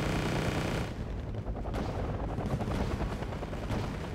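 A Hind helicopter firing its guns in the video game WarGame AirLand Battle, rapid loud gunfire bursts over heavy battlefield rumble, with a short gap before the shooting resumes.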